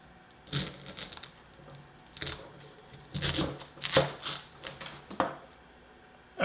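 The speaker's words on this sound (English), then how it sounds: "I'm just going to give it a cut like right about here." A Shun Classic chef knife slices through food on a board in a few separate cuts, each giving a short crunchy scrape followed by a knock, close and fairly quiet.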